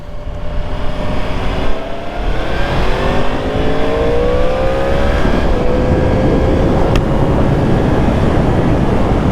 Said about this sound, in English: Welcome to another beautiful day in traffic.